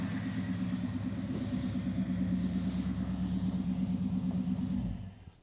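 A Dodge 5.2 V8 in a crew cab Charger restoration, choked by a 2-barrel carburetor, runs with a deep droning rumble and steady pulsing throb, then cuts off abruptly at the end.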